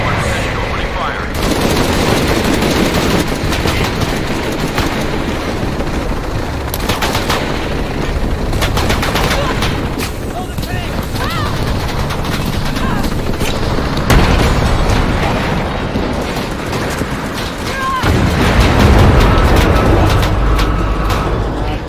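Aircraft gunfire in a video game, a dense sustained barrage of booming shots and rapid bursts filling the scene at steady loudness, with radio-style voices talking over it.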